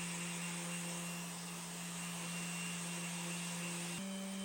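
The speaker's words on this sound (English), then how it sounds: "I always start with 80 grit and just try to get a really rough sand with my Festool." A Festool power sander with 80-grit paper works down the finish on a mid-century modern wood furniture piece, giving a steady, close electric whine with a constant hum that steps slightly in pitch near the end, no voices.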